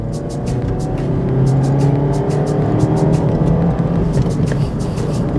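A 2015 Mazda 2 with a 1.5-litre engine and six-speed manual gearbox hums steadily from inside the cabin, its engine note rising slightly and holding, with a faint repeated ticking sound on top.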